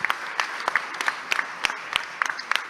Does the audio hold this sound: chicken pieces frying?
no